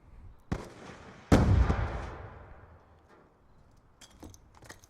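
A grenade goes off in Call of Duty Black Ops 2 during a competitive match, a sharp nearby blast with a booming tail that fades over a couple of seconds, preceded by a smaller pop and followed by faint clicks.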